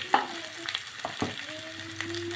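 Two small onions, sliced lengthwise, frying in a pan for coconut chicken curry, with a gentle steady sizzle and a few brief clatters of a spoon against the pan.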